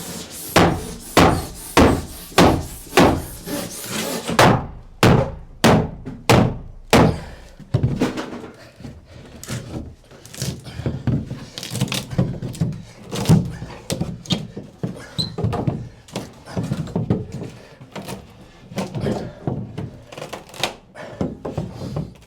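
Repeated heavy thuds of a hammer knocking a nailed OSB board loose from a garden room frame, a fast run of loud close blows followed by more scattered, irregular strikes.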